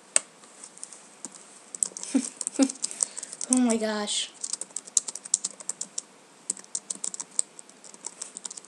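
Rapid keystrokes clatter on a computer keyboard, quick irregular taps running through the whole stretch, close and crisp, while a voice briefly exclaims partway through.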